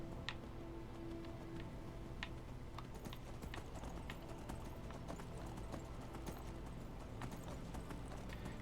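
Horse hooves clip-clop at a steady walking rhythm in the Skyrim video game, faint against a dense background rumble.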